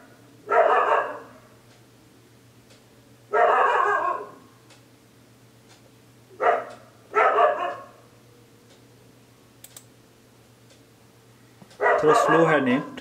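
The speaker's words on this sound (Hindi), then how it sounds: "कुत्ते भौंक रहे हैं।" Dogs barking at night: five or six separate bursts of rough barking spaced a few seconds apart, moderately close, with a low steady hum running beneath and quiet gaps between the outbursts.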